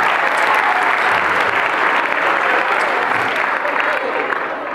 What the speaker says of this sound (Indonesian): tepuk tangan buat adik kita ya